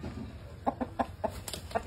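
Fighting rooster giving a run of short, evenly spaced clucks up close, about seven quick pulses over a low background hum.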